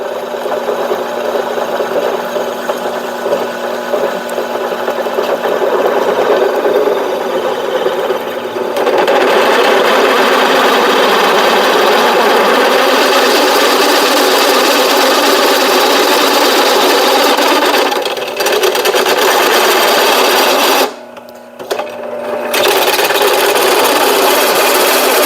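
An old drill press in a workshop bores holes in flat straps, a loud steady motor whine and grinding drone running continuously for the whole stretch, with one brief drop near the end.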